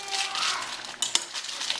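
A knife taps against a cutting board as vegetables are chopped into tiny pieces for pho, a few quick sharp clicks over a soft background hiss.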